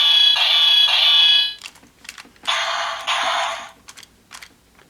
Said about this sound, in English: if you press the button, we'll get a basic attack sound